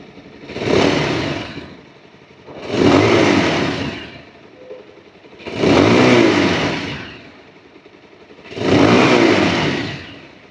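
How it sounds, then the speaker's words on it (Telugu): A 2025 Bajaj Pulsar 220F motorcycle exhaust is revved four times, about every two and a half seconds, each a close, loud surge that falls back to a low idle between blips, with no talking. "ఒకసారి బైక్ ఒక ఎగ్జాస్ట్ నోట్ అనేది వినిపిస్తాను."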